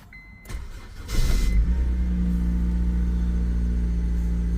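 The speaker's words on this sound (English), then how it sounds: "Let's see if the engine will start." A 2006 Honda Civic engine cranking briefly, catching, and settling into a steady close idle hum after a new key is programmed.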